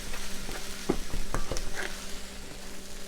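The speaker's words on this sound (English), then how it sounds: "I'm just trying to mix it and incorporate it until I don't see any more white rice." Fried rice sizzles as a utensil stirs it in a cast iron pan. A steady frying hiss runs throughout, with scraping strokes and light clinks close by.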